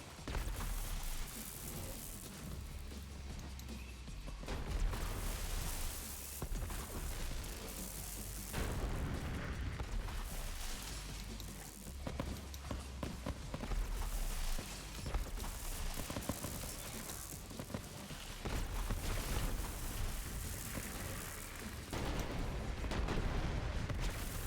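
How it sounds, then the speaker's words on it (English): Red explosions going off in Borderlands while playing as Zane, a rapid run of game blasts and booms with bursts of gunfire, recurring every few seconds without a break. "Juicy red explosion."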